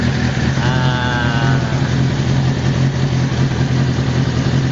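A 1998 Kawasaki Ninja ZX6R motorcycle, which has a hot-engine hard-starting fault, runs steadily close by with a loud, even mid-pitched engine drone throughout.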